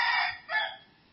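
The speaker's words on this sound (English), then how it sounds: "how do we know that this noise is the noise of a chicken or of a cock?" A chicken or rooster calls in two short, close bursts, the second briefer than the first, with no speech around it.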